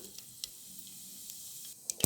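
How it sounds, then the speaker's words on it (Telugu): Cumin seeds dropped into hot oil give a soft, steady hiss with a few faint crackles and pops. "జీలకర్ర యాడ్ చేసుకుందాం."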